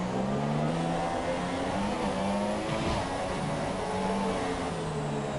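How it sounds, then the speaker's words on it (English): A race car engine in a racing video game howls continuously near the rev limiter in third gear, its pitch wavering and bouncing as it holds high revs, loud and close with no pauses. "Really going to the limiter on 3rd gear there."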